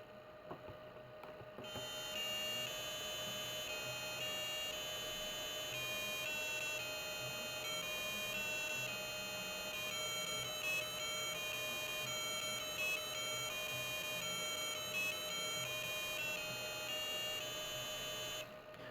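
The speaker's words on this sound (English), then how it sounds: "plays 3 blind mice" A thin electronic tone from a ColecoVision sound chip plays Three Blind Mice as a simple, steady melody of beeping notes, continuous and fairly quiet, with no voices.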